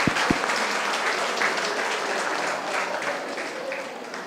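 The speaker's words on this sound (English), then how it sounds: "Please, a round of applause" A college event audience applauds a volunteer with dense, steady clapping that holds throughout at moderate loudness, with a couple of sharp low thumps at the very start.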